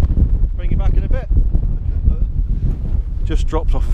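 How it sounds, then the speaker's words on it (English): Wind buffets the microphone on a walk across windy Dartmoor moorland near a stone circle, a steady loud low rumble that runs through the whole clip, with faint voices passing under it. "So yeah, like I say, it's quite windy."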